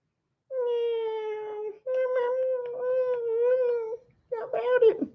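A cat meows twice in long, wavering cries, then gives a shorter, rougher third call, all close and loud in a quiet room.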